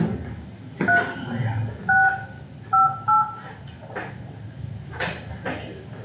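Telephone keypad tones are dialed in short, separate presses to enter a teleconference access code, clear and close in a quiet room, with a few louder knocks near the end.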